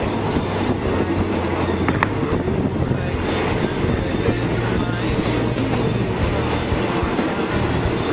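A train rolls past on the tracks, a loud continuous rumble with rhythmic clatter of wheels over rail joints.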